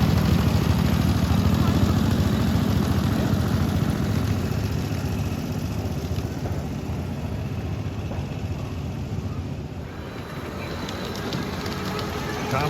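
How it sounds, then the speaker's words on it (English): Miniature live steam locomotives and small diesel models run at the Long Island Live Steamers track, a continuous rumbling engine and rail noise, loud and close, easing slightly toward the end while someone talks over it. "Thomas the Tank Engine is beating that Long Island Railroad GP38-2"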